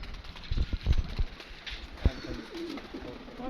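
A Lal Pari pigeon coos close by in a few soft, low, throaty pulses, moderately quiet, with light shuffling and background noise and no speech.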